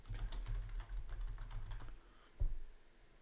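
Rapid, steady typing on a computer keyboard, close and distinct, runs for about two seconds, then a short pause and one louder final keystroke.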